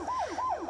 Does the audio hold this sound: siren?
yes